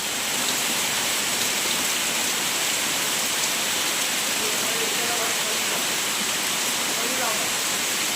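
Heavy monsoon rain pours in a garden in Konkan, India, in a dense, constant hiss, loud and unbroken, with faint voices murmuring beneath the downpour.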